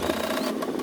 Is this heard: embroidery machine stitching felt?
yes